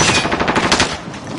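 Rapid automatic gunfire bursts loud and close in a PS4 shooter game, a dense rattling string of shots over about a second.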